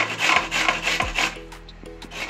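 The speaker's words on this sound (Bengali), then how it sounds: "আমলকিগুলো সুন্দর করে গ্রেট করে নেব, কাটবো না, গ্রেট করে নেব।" Amla, Indian gooseberries, rubbed against a hand grater for pickle, giving a close, steady rasping scrape with repeated strokes, with no talk.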